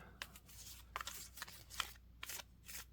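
A round oracle card deck is shuffled close by, producing quiet, crisp riffling and irregular light snaps of cards in several short bursts, with no talking.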